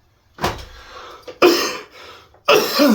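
Three harsh coughs from someone with a cold, spaced about a second apart, close and fairly loud, with short pauses between them.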